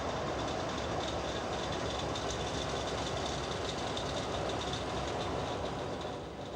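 A train runs along a railway in West Africa, a steady rumbling roar of rolling cars heard from a distance, continuous and fairly quiet.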